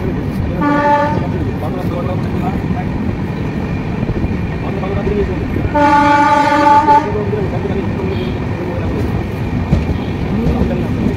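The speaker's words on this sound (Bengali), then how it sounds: "এখন আমাদের ট্রেন পার হচ্ছে জনাই রোড রেল স্টেশন।" Howrah-Lalkuan SF Express passing through Janai Road station, its horn blaring in two loud harmonic blasts, one near the start and one midway, over a steady rumble of wheels and carriages.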